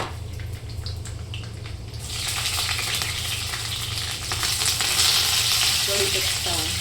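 Mustard seeds, garlic and curry leaves sizzle in hot oil for a vegetable dish, a steady hiss that grows louder and more spattery partway through, with faint stirring and crackling up close.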